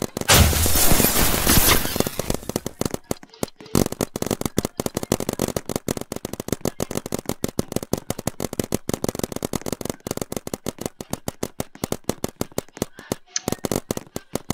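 Rapid gunfire from a video game, a dense burst of sharp shots up front, then a long run of evenly spaced single cracks carrying on steadily at close range.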